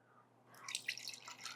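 Milk sloshes around inside a can and drips out, a faint liquid splash and patter of drops that starts after a quiet moment and carries on close by over a low background hum.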